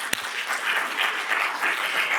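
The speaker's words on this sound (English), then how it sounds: "So a round of applause." Audience applause at a spring convocation begins just after a sharp single thud and builds into a steady, even round of clapping that continues at moderate level to the end.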